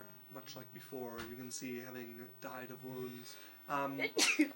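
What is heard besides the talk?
sneeze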